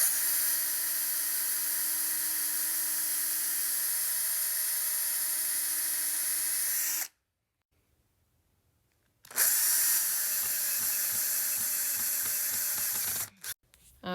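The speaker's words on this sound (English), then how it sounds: "drill pilot holes before we put in our screws" A power drill bores pilot holes into a wooden bookshelf panel, a steady high whine running for several seconds, then a pause and a second burst of drilling that winds down at the end.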